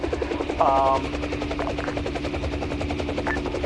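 A big, heavy Mi-8 or Mi-26 helicopter in the military game Arma 3 drones with a rapid rotor thump, layered under players talking over voice chat and brief game effects.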